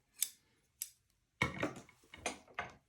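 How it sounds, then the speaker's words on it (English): Fabric scissors snip through fabric in about five crisp cuts, a couple quick and sharp, one longer slicing stroke, close up in a quiet room. "using my fabric cutting scissors, I can simply line up those two marks and cut it across"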